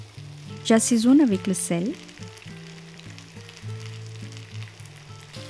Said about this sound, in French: À feu vif, je fais dorer les pommes de terre quelques minutes.